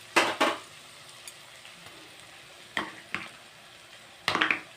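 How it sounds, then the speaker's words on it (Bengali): Garlic paste and onions frying together in a pan, a low sizzle under sharp bursts of a spoon scraping and stirring against the metal, close up, with no talking. "আবারও পেঁয়াজের সাথে রসুনটা আমি ভালো করে ভেজে নেব।"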